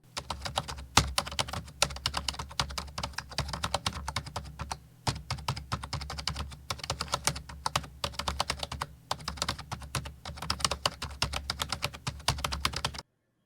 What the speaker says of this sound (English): I sped up the video a little bit while I was typing